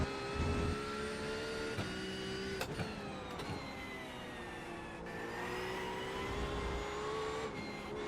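Race car engine in the iRacing sim, a GT3 car, revving hard with rising and falling pitch sweeps as the throttle is worked through a corner transition, loud and continuous with sharp gear-change dips.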